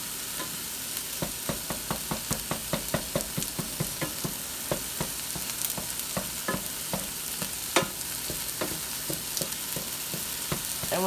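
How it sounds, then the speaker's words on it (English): Steak and ground beef frying in a pan, a steady loud sizzle broken by rapid, irregular crackles and pops from spattering fat, close up and without talk. "while the steak is cooking, we check the ground beef"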